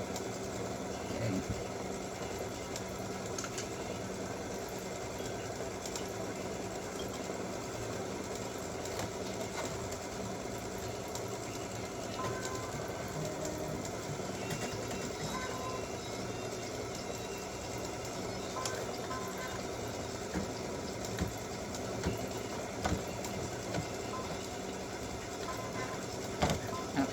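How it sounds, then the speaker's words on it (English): An embroidery machine stitches pink hearts and bright pink stripes on a Valentine gnome mug rug, a steady continuous mechanical hum with faint needle ticks running throughout. "Now it's time to stitch the pink hearts in his hat."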